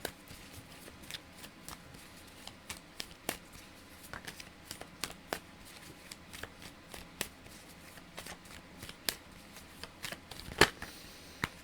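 Oracle cards being shuffled by hand, a steady run of soft riffling slaps and brushes repeating every fraction of a second, close and fairly quiet, with no talking.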